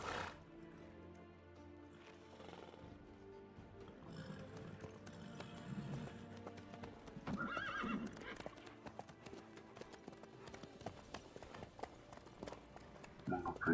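In The Witcher 3 video game, a horse's hooves clip-clop steadily along while it whinnies and snorts, mixed with soft background game music and ambience.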